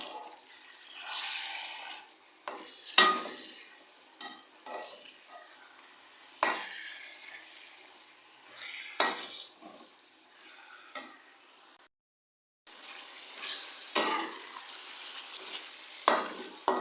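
One kilogram of chicken being stirred and fried in a large pot for degi chicken pulao, with intermittent scraping stirs and soft sizzling bursts, a brief silent gap near the middle.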